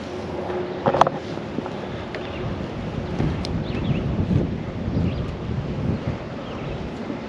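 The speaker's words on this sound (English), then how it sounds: "This is getting pretty windy up here" Wind buffets the microphone in a steady low roar, gusting slightly throughout, with a faint knock near the start.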